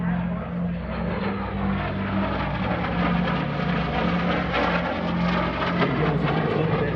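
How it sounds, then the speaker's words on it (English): A Lockheed T-33 jet circles back past the crowd at the Arctic Lightning 2021 airshow, its steady engine roar droning at a distance throughout, with a commentator talking over it. "From the left this time, Wired bringing the T-33 back around."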